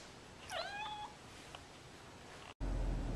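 A hungry cat gives a single drawn-out meow, fairly close and clear indoors, followed by quiet room sound and a brief thump near the end.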